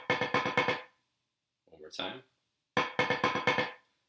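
Quick bursts of rapid sticking on a practice pad, seven-stroke rolls, a short spoken phrase in between, then another fast roll pattern.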